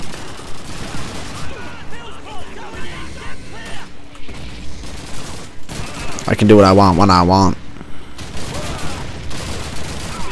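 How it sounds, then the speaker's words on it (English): Call of Duty battle with rapid gunfire bursts and heavy shelling booms, loud and close, while someone talks over it in a game commentary. "Wow, we're really getting shelled."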